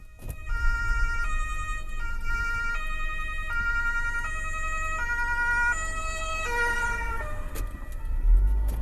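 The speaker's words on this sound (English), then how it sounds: "there is a squad car in action, approaching from behind" Police squad car siren wailing from behind on a road, a loud cycling electronic tone with stepped pitch changes, continuous for several seconds over steady traffic rumble.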